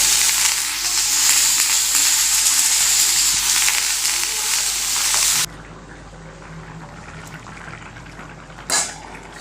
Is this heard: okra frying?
yes